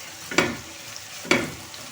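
Sausage pieces sizzle gently in a pot of stewing fresh cabbage, with two soft clattering bursts as pieces are dropped or stirred in, over a steady low simmering hiss.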